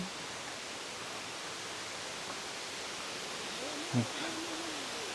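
Waterfall at Wat Pha Lat temple in Chiang Mai, a steady, even broadband rush of falling water heard alone throughout, with one brief louder knock near the end.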